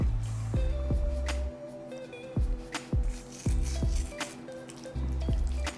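Soy milk poured into scrambled tofu in a pan, giving soft repeated squishy, liquid splashing bursts with short pauses between, close and fairly quiet, no talking.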